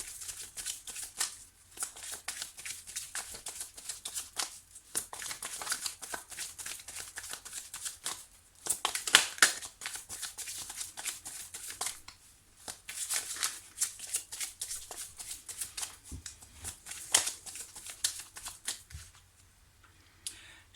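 Oracle cards being shuffled for a reading, a steady papery riffling and sliding that runs in bursts with short pauses, close and fairly quiet, no voices.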